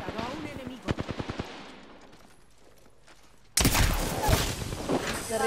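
Rapid automatic gunfire in a battle royale video game, a burst of sharp shots followed by a loud, dense barrage of continuous firing with a voice talking over it.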